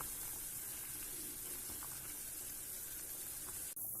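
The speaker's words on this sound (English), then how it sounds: "Now that's a roaring boil." Vegetable stock at a roaring boil in a pot for vegetarian thukpa noodle soup, a steady dense bubbling hiss that runs continuously and alone at close range, cut by a brief sharp clatter near the end.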